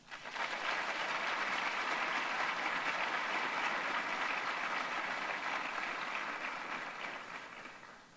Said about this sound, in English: Please give these two individuals a round of applause.